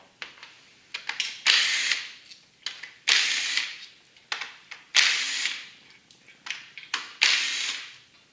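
A power ratchet zipping off ignition coil bolts on a Toyota 2.4L engine, giving four loud whirring bursts of about a second each, separated by short clicks and handling noises, close to the mic.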